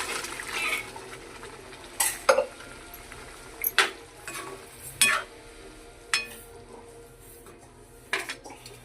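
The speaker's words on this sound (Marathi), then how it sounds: "आता याच्यामध्ये आपण छोले टाकून घेऊया." Boiled chickpeas go into roasted masala in a pan with wet plops and splashes, followed by a series of separate clinks and scrapes from a utensil against the pan.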